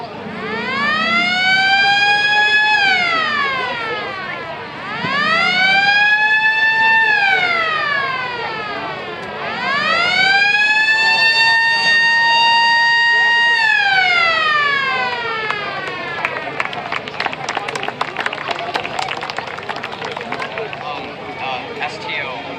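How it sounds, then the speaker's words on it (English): A Yugoslavian civil defense siren winds up and down through three long, loud wails, then trails off into a softer, fluttering tail. "This is my childhood siren, first siren I bought. It's a Yugoslavia siren."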